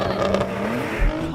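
A Nissan GTR Nismo launching in a drag race, its engine note rising briefly before it bogs down and the revs sag, heard from fairly close over a short burst.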